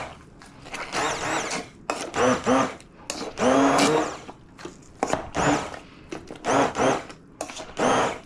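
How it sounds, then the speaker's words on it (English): A hand blender pulses through charred salsa verde with cilantro and salt, giving several short whirring bursts separated by brief pauses, loud and close. "And I'm gonna go in there with the hand blender."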